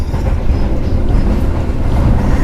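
Inside an executive carriage of the KA Sribilah train with K5 bogies nearing Kisaran station in North Sumatra, a loud, heavy low rumble and rattling roar fills the cabin steadily without letup.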